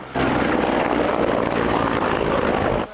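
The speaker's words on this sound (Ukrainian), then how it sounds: "українські ударні гелікоптери двійками летять бомбити позиції росіян" Pair of Ukrainian attack helicopters flying low over hills near the front line at Chasiv Yar, a loud, close, continuous rotor and engine roar that starts abruptly and cuts off near the end, with no voices.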